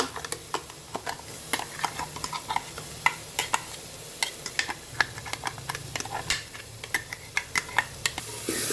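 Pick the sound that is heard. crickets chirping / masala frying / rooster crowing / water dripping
masala frying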